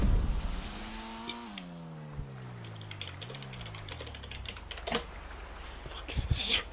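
Computer keyboard typing during play of GTA Online, quick scattered key clicks surfacing in the second half beneath a racing car's engine whine and game sounds, fairly quiet overall.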